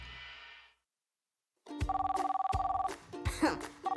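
Cartoon telephone rings in a children's animated show about a vehicle repair workshop, with repeated rapid electronic trills in bursts after a brief silence, loud and close; a short voice precedes it.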